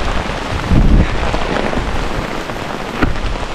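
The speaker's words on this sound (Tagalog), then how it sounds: "Grabe ulan." Heavy rain pounds steadily on a tarp shelter at a campsite on Mt. Mantalingahan in Palawan, a loud, dense roar with no pauses.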